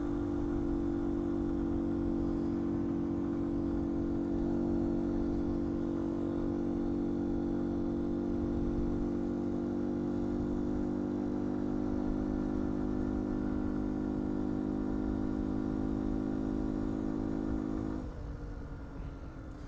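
A 2019 Beta 125 RR-S motorcycle with a Yamaha-built engine runs at a steady, loud drone while riding, holding an even tone for most of the stretch before easing off near the end.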